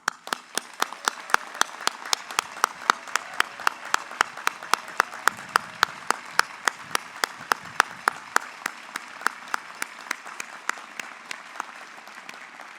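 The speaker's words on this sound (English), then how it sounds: "Now please hear the thunder of our applause." A Bates College commencement audience applauds the graduating class of 2021, a sustained wash of many hands with sharp individual claps standing out, continuing evenly for nearly thirteen seconds with no talking.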